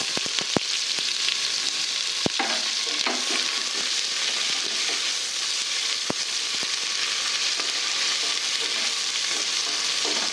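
Onion sautéing in hot oil with cumin, mustard seeds, asafoetida and bay leaf for a spiced rice dish: a steady, bright sizzle throughout, with a few sharp clicks and taps of a spoon against the pan.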